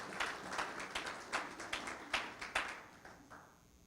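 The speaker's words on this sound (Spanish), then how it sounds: "Denle un aplauso a Cristo en esta mañana." A church congregation at a morning service gives a short round of applause, faint and somewhat distant, a string of spaced claps and bursts that fades out after about three seconds.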